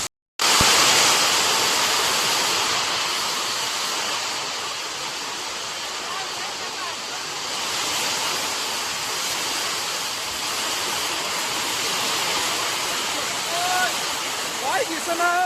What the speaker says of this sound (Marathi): मोठ्या मोठ्या गारा मित्रांनो, त्या मोठमोठ्या गारा